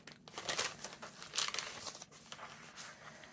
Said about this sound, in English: I love how you can hear the crinkles and play with it